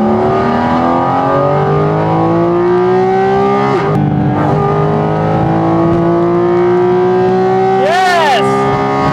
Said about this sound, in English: one of the biggest features on this car is that noise.